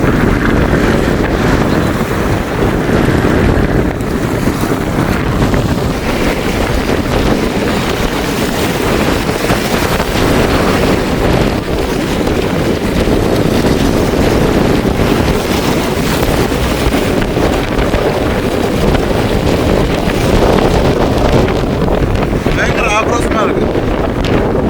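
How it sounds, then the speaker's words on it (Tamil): Floodwater churns and sloshes on a submerged island road, Nainativu–Pungudutivu route, with strong wind buffeting the microphone in a steady, loud roar throughout. "தண்ணியெல்லாம் எப்படி கொந்தளிக்குன்னு பாருங்க"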